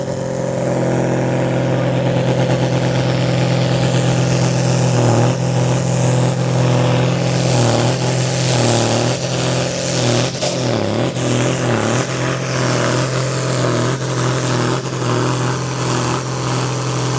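A Super Sport 3.6-tonne class pulling tractor with an H55 turbocharger and self-built air-to-water intercooler at a farm pulling event, its engine roaring loud and close in a sustained drone that surges and revs repeatedly throughout.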